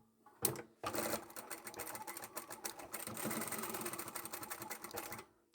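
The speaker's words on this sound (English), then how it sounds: "I'll come back to the other end, sew that closed" A sewing machine stitching the lining of a double-sided scrap-fabric zipper pouch closed, a steady close rapid mechanical whir after a short start, running for several seconds then stopping.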